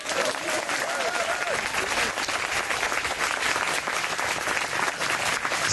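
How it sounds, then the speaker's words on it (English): Graduation audience applause, a thick, even roar of many clapping hands in a large room, sustained and loud throughout, with a few faint voices and cheers mixed in. "let's give them a round of applause"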